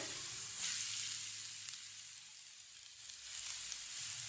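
Onions, grated carrot and finely shredded cabbage fry in a pan with a steady, continuous sizzle that carries through from start to finish, loud and close, with no one talking.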